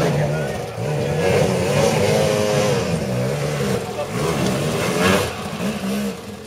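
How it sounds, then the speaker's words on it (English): Several two-stroke motorcycle engines race and rev loudly during the 2010 Roof of Africa enduro race, their pitches rising and falling, with a voice talking over the roar. "when the sound of two-stroke engines rang out"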